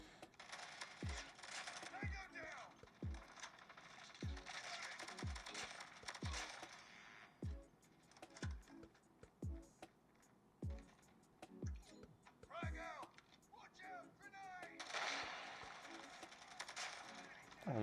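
Gunfire from a mobile shooter game played on a Cubot X50 phone: a steady run of sharp, evenly spaced shots comes through the handset's small speaker, with brief bursts of other game effects between them.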